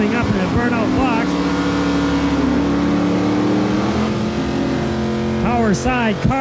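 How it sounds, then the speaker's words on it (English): Drag racing cars idle and rev loudly in the burnout box at a 1992 Pro Mods event, engine tones rising and falling repeatedly, with a faint announcer voice under the engines. "Two cars coming up in the burnout box."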